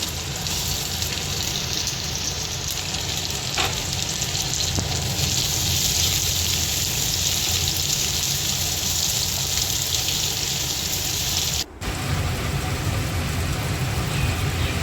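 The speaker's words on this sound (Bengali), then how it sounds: "এবার কড়াতে 2 চামচ ঘি দিয়ে বেরেস্তা বানিয়ে নেব।" Onions frying in two spoons of ghee in a kadai make a continuous dense sizzle and hiss, steady and close, with a brief clatter partway and a short break near the end, with no talking.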